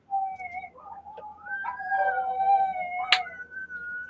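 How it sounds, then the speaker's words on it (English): Several pet dogs howl together indoors, long wavering overlapping tones that rise and fall and sustain across the stretch, close and moderately loud, with no talking. "My dogs are singing."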